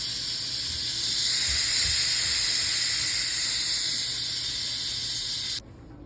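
A pressure cooker vents steam after cooking pork carnitas, giving a steady loud hiss that runs for several seconds and then cuts off abruptly, leaving quiet kitchen background.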